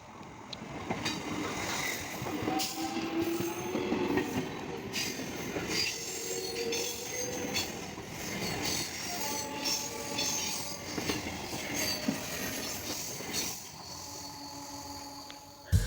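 A local train near Howrah runs steadily along the rails with a continuous rumbling clatter, with metallic wheel squeals rising and fading over the ride.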